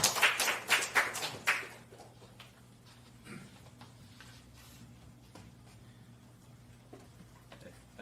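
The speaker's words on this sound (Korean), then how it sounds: "우리 나오실 때 박수로 환영하겠습니다." In a Korean church at a seminar completion ceremony, a congregation welcomes a speaker with a short burst of close, sharp handclaps lasting under two seconds, followed by a quiet room with a low steady hum.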